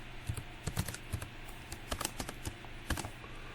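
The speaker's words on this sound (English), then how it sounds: "Okay, I'm going to put in my login details, my password," Login details and a password are typed on a computer keyboard, with irregular clusters of soft, close key clicks and short pauses between them.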